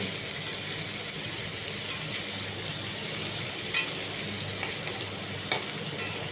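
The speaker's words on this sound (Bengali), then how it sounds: "এরপর আমি সয়াবিনগুলো দিয়ে দিচ্ছি সয়াবিনগুলো একটু ভেজে নিলে সয়াবিনগুলো খেতে ভালো হবে" Soybean chunks fry in a pan for a home-style potato and ridge gourd curry, giving off a steady, close sizzle with a few light stirring clicks and no talk.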